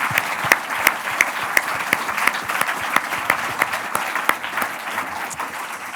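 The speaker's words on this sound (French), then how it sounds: "je pense qu'on peut les applaudir" Audience at the award ceremony of the 19th Brive film festival applauds for the cinema team, a dense, steady clapping with some sharper individual claps standing out near the front, continuing without any talk.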